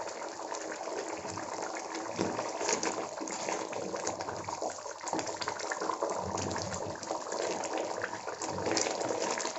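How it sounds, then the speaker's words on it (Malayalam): Paneer gravy boils in a kadai, a steady dense bubbling and hissing that holds at a constant level throughout, with no talk over it. "അപ്പോൾ ഇത് നന്നായിട്ട് തിളക്കുന്നുണ്ട് നമ്മുടെ പനീർ ഗ്രേവി"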